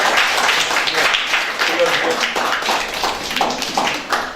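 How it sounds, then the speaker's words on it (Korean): An audience at a Korean lecture-concert claps together, a dense burst of applause that begins loud and tapers gradually, with a voice speaking over it. "우리 그런 의미에서 우리 스스로에게 한 번 큰 박수 부탁합니다"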